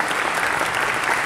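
Live show audience in Indore applauding to welcome a guest, a dense, loud, sustained burst of clapping with no breaks.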